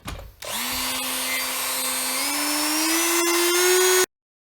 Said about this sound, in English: what I think I'm going to do is just use a Dremel tool and cut this out